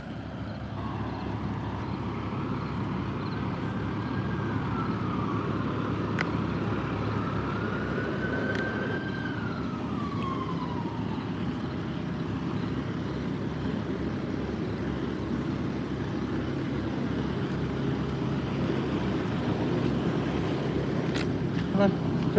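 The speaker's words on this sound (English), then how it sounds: "They leave their trucks running." Construction trucks idle nearby in a residential neighborhood with a constant low engine rumble. A siren wails and glides in the distance partway through.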